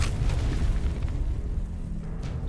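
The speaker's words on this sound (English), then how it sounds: "That's just what everyone needs. More explosions." Deep rumbling explosions from the video game Final Fantasy VII Remake, a dense low boom that rolls continuously and loudly with no voices over it.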